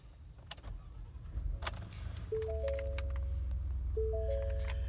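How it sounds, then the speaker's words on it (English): A 2018 Ford F-150 XLT pickup with a 2.7L EcoBoost engine is started from inside the cab; a low idle rumble steps up partway through, with electronic dashboard chime tones ringing over it. "So let's go ahead and I'm going to start the vehicle up."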